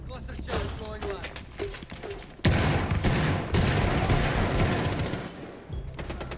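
Cluster charge explosions in a Rainbow Six-style tactical shooter sound as a burst of loud blasts and crackling detonations, following scattered rapid gunfire, with players talking over the noise.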